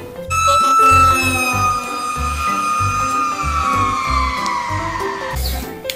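A toy fire truck siren wails continuously with a slowly falling electronic tone, backed by a rhythmic pulsing thump, loud and close.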